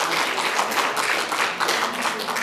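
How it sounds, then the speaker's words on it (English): Sustained applause from a lecture audience in Seattle, steady dense clapping throughout with no pauses, fairly loud and close, no talk over it. "they deserve a huge applause"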